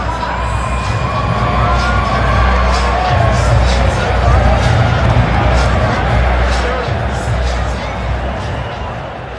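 Giants fans cheer in a baseball stadium crowd during a Padres at Giants game, a loud sustained roar of crowd noise with a broadcast voice talking over it.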